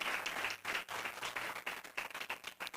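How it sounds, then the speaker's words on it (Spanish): Congregation applauding during a church service, brief and somewhat faint with choppy, uneven bursts of clapping from a small group. "Dele un aplauso al Señor en esta tarde entonces, para la gloria del Señor"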